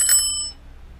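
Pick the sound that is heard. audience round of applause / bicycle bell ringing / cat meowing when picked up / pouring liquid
bicycle bell ringing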